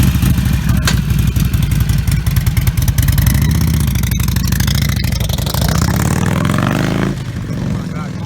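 A motorcycle fitted with a Vance and Hines quiet baffle revs close by and pulls away, its steady engine rumble rising in pitch as it accelerates before easing off near the end.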